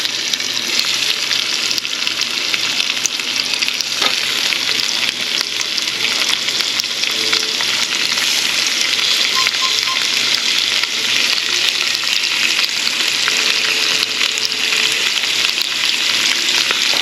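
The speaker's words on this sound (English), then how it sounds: "now I'm going to fry up our chicken" Seasoned chicken sizzles and crackles steadily in a frying pan, a loud continuous hiss running for the whole stretch without any talking.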